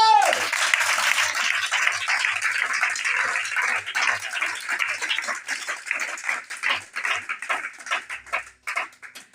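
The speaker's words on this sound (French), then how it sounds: "Oh, acclame Jésus." Congregation applauding and cheering at a church service, a dense wash of clapping that swells loudly then thins into scattered claps toward the end.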